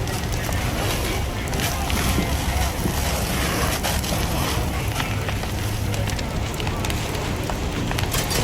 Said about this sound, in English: The fire spread quickly from one side of the building